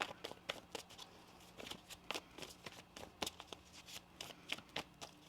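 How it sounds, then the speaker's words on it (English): Tarot cards being shuffled by hand, a quick series of crisp riffling flicks and taps in irregular bursts, close and quiet with no voices. "One more shuffle here."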